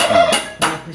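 A small rooster among exotic pet birds in Darjeeling gives two quick, close clucks less than a second apart.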